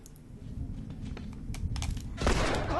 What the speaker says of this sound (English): He just killed 2 guys, shot him right in the head.